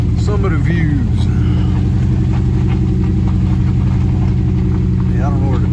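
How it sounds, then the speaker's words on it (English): A truck engine idles steadily while climbing a hill on a rainy state-park trail, a constant low rumble running throughout at close range, with people talking over it near the start and end. "Idling up the hill and taking our time."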